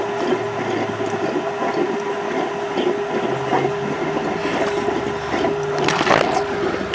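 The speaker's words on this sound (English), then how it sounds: "I'm comfortable walking around in this pool with the pump running" A water pump runs steadily in a flooded, rain-filled pool whose liner has floated, giving a continuous mechanical hum with a sustained tone, close and even in level throughout.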